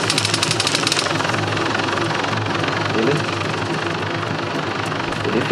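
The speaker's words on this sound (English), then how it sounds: "Chopper landing here." Helicopter coming in to land in a video game, a steady loud rotor and engine drone filling the whole stretch, with a faster chopping flutter near the start.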